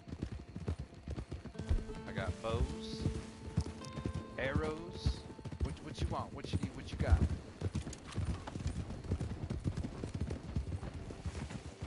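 Horse hooves clip-clopping in Red Dead Online, a steady rhythmic trot running throughout beneath several people talking, with an occasional whinny.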